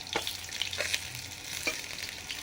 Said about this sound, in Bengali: রুই মাছের পিসগুলো ভাজা হয়ে গেছে, নিয়ে নিচ্ছি।